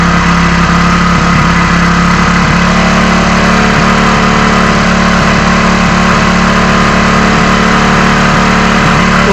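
A motorcycle engine holds at high RPM, a loud, dense and steady drone close up with no pauses, unaccompanied by talk.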